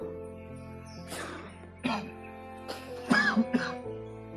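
A few rough coughs and throat clearing, spaced out over several seconds, close by, with quiet background hum.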